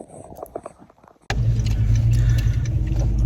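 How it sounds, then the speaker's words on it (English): A car drives along, its sustained, loud low road rumble and engine drone starting abruptly after a second of quieter shuffling and small knocks, then holding steady and close. "we are now in the car driving to the concert"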